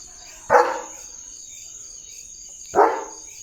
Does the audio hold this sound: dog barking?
yes